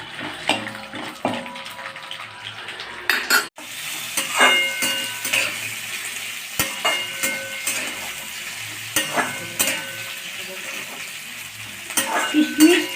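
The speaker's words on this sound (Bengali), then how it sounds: "তেজপাতা দিলাম, আমাদের কিশমিশ, কাজু, বাদাম, আলমন্ড সব আছে। এটাকে একটু লাল করে ভেজে নেব।" Bay leaf, raisins, cashews and almonds frying in ghee in a pan, a steady close sizzle broken by scraping stirs and clinks of a spoon against the pan, with no talking.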